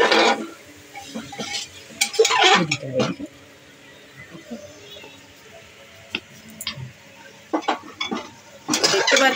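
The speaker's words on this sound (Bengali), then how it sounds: "এবার আমি রাজমাগুলো দিয়ে দিচ্ছি।" Boiled kidney beans tip into a pot of hot spiced oil with bay leaf and cardamoms, followed by scraping stirs and clinks of a spoon against the pot in irregular bursts, with a faint sizzle between.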